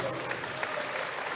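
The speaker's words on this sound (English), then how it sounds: "let's give all of the candidates a big round of applause." Audience at a Navajo Nation presidential forum applauding the candidates, a steady wash of clapping from a seated crowd at moderate level, heard alone without talk over it.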